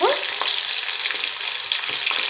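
Chopped ivy gourd (dondakaya) fries in a pan with a steady, close sizzle and crackle, broken by soft scraping stirs of a spatula, with no voices.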